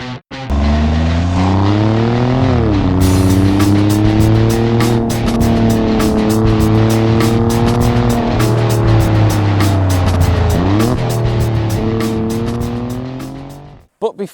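Alfa Romeo Giulia Quadrifoglio driving hard, its engine revving up and down through the gears with a loud, steady roar that dips at shifts, close and continuous for most of the stretch before cutting off abruptly.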